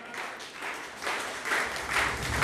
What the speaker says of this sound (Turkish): Bizim gazimiz gelip alkışlarla karşılıyor.